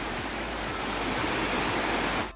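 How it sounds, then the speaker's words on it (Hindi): Koshmal waterfall in the Dang forest of Gujarat roars as a steady, dense rush of falling water, loud and close, with no voices. "यही पानी नीचे उस झरने में गिर रहा है भाई"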